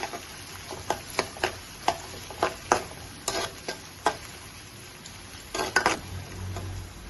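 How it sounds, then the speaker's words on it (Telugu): Thinly sliced onions, about a cup, frying and being stirred in a pan, with a soft steady sizzle and repeated scraping clicks from stirring, close and moderately quiet, with no talk. "ఆనియన్స్ ఒక కప్పు వేసానండి సన్నగా కట్ చేసుకున్న ఆనియన్స్ ఒక కప్పు"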